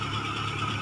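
A 2003 Hyundai Excel car engine runs steadily, a faint low hum with a soft even drone and no voices, very short and unchanging.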